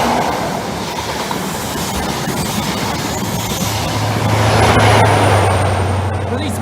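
An East Midlands Railway train of five carriages passes close by with a continuous loud rumble and rail clatter, swelling toward the end, while a steady low engine drone sits underneath.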